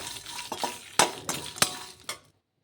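Chopped ivy gourd fries in a pan over medium heat as a spatula stirs it, making a quiet sizzle with six or seven distinct scraping clanks before falling silent.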